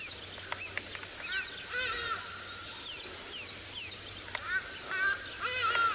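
Harsh, honking calls of a hadeda ibis in flight sound from a distance over a low outdoor hum at sunrise on safari, several loud squawks repeating irregularly as the bird passes.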